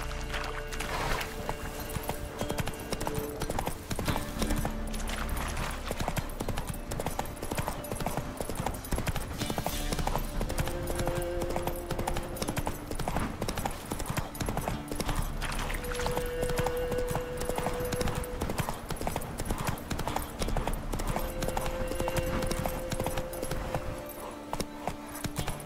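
Roach the horse gallops in The Witcher 3, steady rhythmic hoofbeats drumming close and continuous with a faint jingle of tack, running unbroken with no talk.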